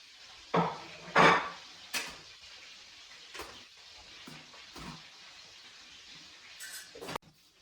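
Cheese being mixed into salad inside a metal pot: a few sharp clinks and scrapes of utensil against the pot, with scattered quieter knocks between them and a final clatter, no talking.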